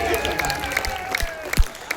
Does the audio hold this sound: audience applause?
yes